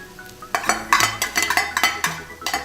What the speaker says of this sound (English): And just stir fry. Just mix it in like that.